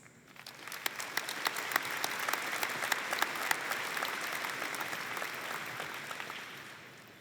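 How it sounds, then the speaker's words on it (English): Audience applause at a high school graduation ceremony, a steady wash of many hands clapping that swells quickly, holds for several seconds and tapers off at the end, with no talk over it. "How about a big round of applause for Renee emceeing this today?"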